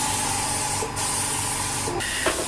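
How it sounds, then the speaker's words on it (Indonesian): Spray gun laying a thin, even coat of epoxy primer at about 29 psi, a steady close hiss that runs nearly continuously with two brief breaks as the trigger is released. "ini kita cat tipis-tipis tapi rata"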